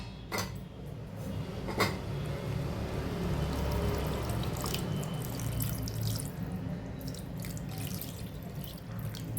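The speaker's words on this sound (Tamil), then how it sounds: "இப்போ இதில் நமக்கு தேவையான அளவு தண்ணியை ஊற்றி" Water is poured into a pressure cooker holding soaked Mysore dal with green chillies, a close, steady splashing stream that runs for several seconds without speech.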